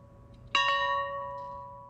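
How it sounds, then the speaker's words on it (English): A single church bell strike rings out clearly, its bright tones sustaining and slowly fading over quiet background. "And there, a bell tolled 39 times,"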